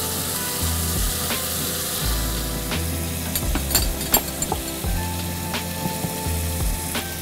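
A spoon stirs seasoning into egusi soup in a pot, with a steady sizzle underneath and irregular scraping clicks against the pot, close up and with no talking.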